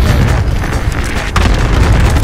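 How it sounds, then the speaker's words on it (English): Explosions in a video game of crossbow kills, rendered as a loud, continuous booming rumble heavy in the low end, with rolling blasts and a sharper burst partway through. "So many explosions!"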